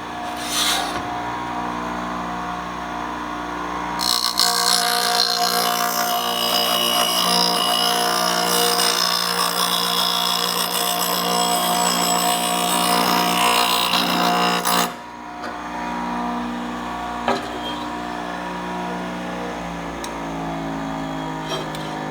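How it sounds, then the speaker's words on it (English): A DYNA surfacer grinds across a metal rail, a loud harsh abrasive whine that starts around four seconds, runs steadily for roughly eleven seconds, then cuts off, leaving a quieter motor hum. "you can see here we're grinding on this rail"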